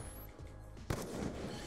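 A Black Ops 2 gunshot sounds as one sharp, close report partway through, set over a steady backdrop of game sound and music.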